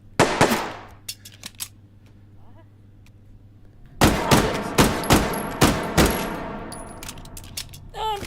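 Video game gunfire cracks in a scattered burst of shots, pauses, then returns as a loud rapid string of sharp reports with ringing tails, close and dominant.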